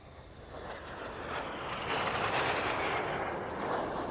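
Aerobatic display jets of a synchro pair roar past inverted at the RAF Waddington airshow, a loud, broad rushing jet noise that swells and holds steady across the pass with no voices.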